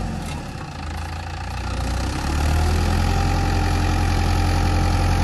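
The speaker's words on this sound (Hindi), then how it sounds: "चलो चल रहा है, चल रहा है ट्रैक्टर, चल रहा है यार।" A Mahindra tractor engine runs while the tractor struggles to pull free. It holds a steady, close diesel drone that grows a little louder and fuller partway through.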